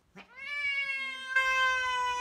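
Two house cats meet and scream at each other, a long rising, wavering yowl that swells louder partway through as the second cat joins, close and harsh.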